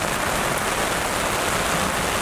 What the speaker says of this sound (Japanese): これ雨の音どれぐらい入ってるんだろう